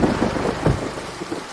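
Steady heavy rain pours throughout, with a low rumble of thunder rolling beneath it, dense and continuous with no voices.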